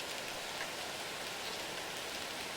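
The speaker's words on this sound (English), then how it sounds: "We were searching for her while being soaked by the falling rain." Steady rain falls in the NinNinDays2 video game, a soft continuous hiss at moderate level with no voices over it.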